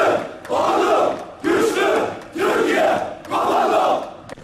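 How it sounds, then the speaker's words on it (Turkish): Turkish commando Blue Beret brigade soldiers on a street parade march shout loud battle cries in four rhythmic, evenly spaced bursts, with the noise of a crowd around them. "Geçit töreninde sokaklar Mavi Berelilerin sesleriyle yankılandı."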